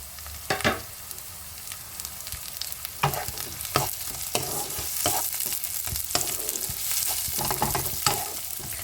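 Onion, chopped garlic and chilli fry in a pan with a steady loud sizzle, broken by repeated scraping stirs of a utensil across the pan surface; no one talks.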